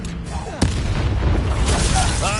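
A spell cast in the Hogwarts Legacy video game lands as a sharp booming burst followed by a crackling rush that fills the rest of the moment, loud and close.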